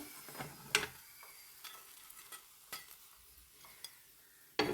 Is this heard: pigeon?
no